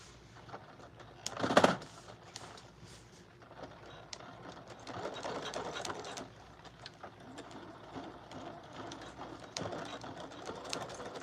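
A sewing machine with a heavy-duty needle back stitches through thick puffer coat layers at the bottom of a jacket, giving a sharp loud mechanical burst early on and then a steadier whirring, clattering run at moderate volume.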